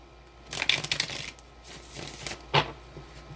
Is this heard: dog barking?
no